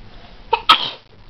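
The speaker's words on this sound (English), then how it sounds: "Between you sneezing and him coughing" A single person's sneeze, short and close, with a quick inhaled catch right before the sharp, explosive burst.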